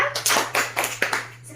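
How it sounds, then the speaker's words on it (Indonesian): Rhythmic claps from a classroom of children for their teacher, a run of sharp bursts about every quarter second with voices talking over them. "Tepuk tangan buat Bunda."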